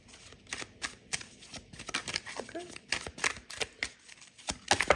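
Tarot cards being riffled and shuffled by hand, quick papery flutters and taps in repeated bursts, close and moderately quiet.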